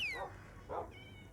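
Cats meow in an island video game, two short near meows about half a second apart, with a descending whistle-like tone at the start and a faint electronic tone near the end.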